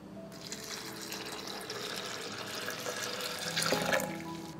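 Water, about 500 ml, poured steadily for a few seconds in a home kitchen while making a fertilizer mix, a soft continuous splashing and trickling that swells slightly near the end.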